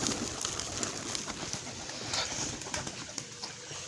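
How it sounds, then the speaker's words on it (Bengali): Domestic pigeons, including black Stasser birds, coo and murmur close by in a loft, a soft continuous burble of overlapping calls with no talking. "এই যে স্টেসারগুলো দেখতে পাচ্ছেন ব্ল্যাক স্টেসার, এগুলো আমার খাসার কবুতর"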